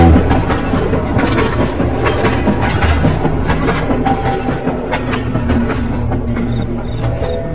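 A train rumbles past close by with a loud, steady roar and rhythmic clickety-clack of wheels on rails, used as a sound effect in a narrated story.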